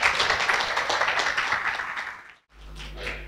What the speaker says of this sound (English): I already get applause